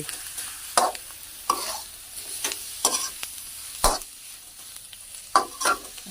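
Three-flavor shrimp tossed with coriander and spring onion in a pan after the heat is off, intermittent spatula scrapes and clatters over a faint sizzle, close and without talk.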